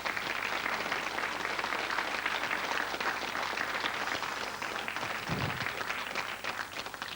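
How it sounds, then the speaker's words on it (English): Studio audience on a 1991 Channel 4 Countdown broadcast gives a steady, full round of applause lasting several seconds, dense and even throughout with no talk over it. "a round of applause, because that's good"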